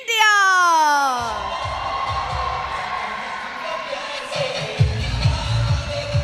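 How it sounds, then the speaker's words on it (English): An announcer's voice rises and fades, then a large arena crowd in Patna roars and claps continuously for Team India at the Sepaktakraw World Cup, broad and sustained with occasional louder swells. "Huge applause, as you would expect, here in Patna for Team India."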